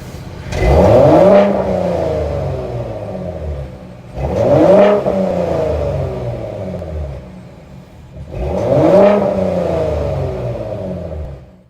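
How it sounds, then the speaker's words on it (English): A 2021 Ford Raptor pickup truck's new engine revs up three times in a row, each deep throaty surge rising and then settling back into a rumbling idle. "Ford did release a clip so you can hear the new engine right here."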